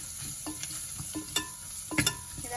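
Asafoetida and spices fry in hot oil as the tempering for pepper rasam, giving a continuous close sizzle broken by several sharp clicks and scrapes from stirring.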